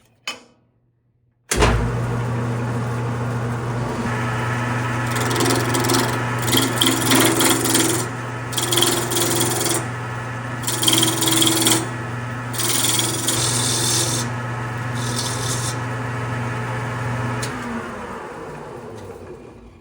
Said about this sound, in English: we're going to turn on the lathe